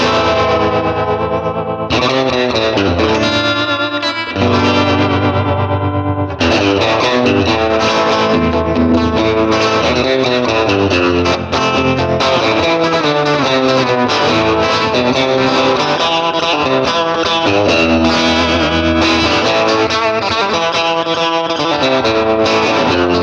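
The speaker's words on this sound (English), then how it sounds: "If you're looking for that classic blackface surfy kind of tremolo, I would go for the triangle wave" Electric guitar played through a Matthews Conductor v2 optical tremolo pedal set to a triangle wave, giving a classic blackface surf-style pulsing tremolo; loud, continuous chords and notes with steady rhythmic volume throbbing, heavy effect coloring and no talking.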